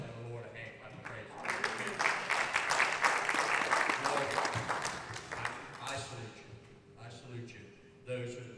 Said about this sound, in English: yourself and the Lord a hand clap of praise